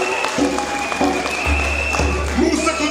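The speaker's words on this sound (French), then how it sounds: "Je demande qu'on les applaudisse." A crowd applauds at a political rally in Saint-Louis, Senegal, a dense patter of clapping heard over a loud voice and a low background rumble.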